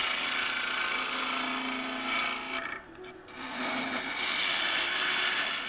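Lathe gouge cutting a claret ash wood bowl, a continuous close rasping hiss of shavings peeling off, briefly easing before the cut resumes, with no talk.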